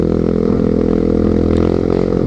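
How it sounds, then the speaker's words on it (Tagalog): A motorcycle engine revs loudly and close on a steep, slippery road in Rizal, a strong steady throbbing drone with a slight rise in pitch over a couple of seconds. "Lakas ng motor na to eh."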